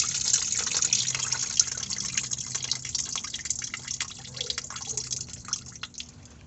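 Coolant drains from the inverter/converter of a 2007 Toyota Highlander Hybrid, first generation, as a steady close trickle with scattered drips and splashes, continuous and fairly quiet, with no voices.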